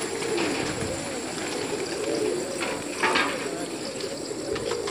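Pigeons, about one month old, cooing in a low, continuous murmur, with rustling and faint background noise throughout.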